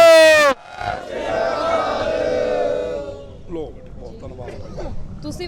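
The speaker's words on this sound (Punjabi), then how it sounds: "ਕਿਸਾਨਾਂ ਨੇ ਜ਼ਿੰਦਾਬਾਦ ਮੁਰਦਾਬਾਦ ਦੇ ਨਾਅਰੇ ਲਗਾਏ ਨੇ" Protesting farmers at a tractor rally shout slogans together, a loud crowd chant rising from one sharp cry into a sustained roar of many voices, with chatter and scattered shouts toward the end.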